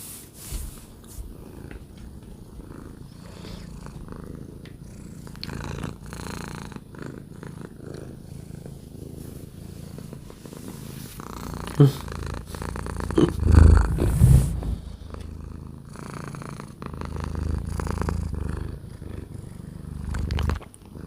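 A pet cat, just awake from a nap, purrs steadily and close up for a long stretch, the low rumble swelling louder near the middle with a few snorty breaths mixed in.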